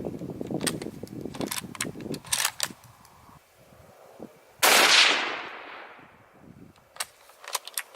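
Sharp outdoor gunshots from an 8mm Mauser Yugoslavian surplus rifle: several quick cracks, then one loud blast with a long fading echo, followed by a few more clicks and reports.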